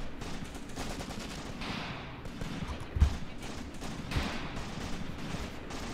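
Distant gunfire in the WWII tactical video game Graviteam Tactics during the 1942 battle for Shilovo, with scattered muffled shots and rumbling bursts over a dense battle ambience, and a couple of slightly sharper reports.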